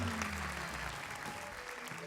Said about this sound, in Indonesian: Terima kasih dulu dong tepuk tangan untuk suaminya Kiki